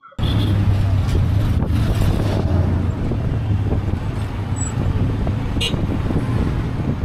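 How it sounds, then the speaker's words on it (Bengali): A three-wheeled tuk-tuk ride in a village near Cairo, with a loud continuous engine rumble and road noise, some wind buffeting and faint higher whines throughout. "এবার মাইক্রোবাস থেকে নেমে 3 চাকা বিশিষ্ট টুকটুকে বাকিটা পথ চলছি।"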